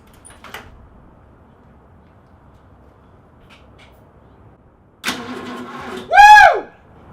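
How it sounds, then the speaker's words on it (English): After a near-silent wait, an engine on a restored project vehicle cranks for about a second during its first start, then gives one loud, brief whining surge before cutting off. "that was my goal for today, was to get the engine turning over"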